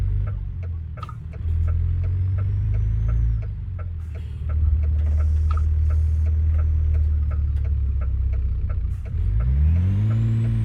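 A car rolls slowly over grass while manoeuvring to park, its steady engine hum rising and settling with gentle revs and a light ticking, close and continuous, with no talking.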